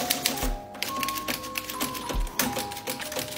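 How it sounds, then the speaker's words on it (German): Keys striking on a 1970s-80s portable travel typewriter, firm irregular clacks and thumps in a quick burst with a faint bell-like ring, close and alone. "dann kann man tippen und hat dieses tolle Tippgeräusch"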